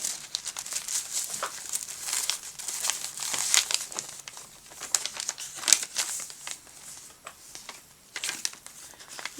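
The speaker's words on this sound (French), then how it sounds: "Ici c'est une feuille de papier de soie." A sheet of tissue paper is handled up close for a junk journal project, giving irregular bursts of crisp crinkling and rustling that rise and fall in clusters, with no talking.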